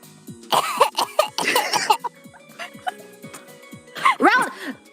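A person imitates a baby's coughing with short bursts of small coughs and sputters, separated by pauses, in a room with faint background sound.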